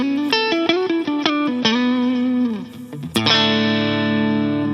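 An electric guitar played through a Ruby UAFX Vox AC30 amp-emulation pedal with the treble turned up, giving a clean, bright tone. Several quick plucked notes ring out, then a pause and a sustained strummed chord.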